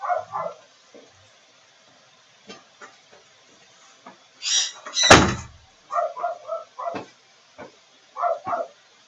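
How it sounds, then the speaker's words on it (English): A door is pushed shut indoors with one loud, close thud, followed by scattered small knocks and bumps in a quiet room, and a dog barks in short bursts before and after. "Hold on, I'm gonna close the door."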